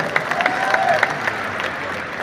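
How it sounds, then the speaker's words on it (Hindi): An indoor audience at a gathering honoring senior clients breaks into brief, close, steady clapping, a short burst of applause with light crowd murmur. "सबके लिए एक जोरदार ताली हो जाए"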